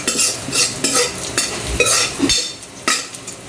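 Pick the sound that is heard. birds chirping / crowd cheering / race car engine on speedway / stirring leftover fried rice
stirring leftover fried rice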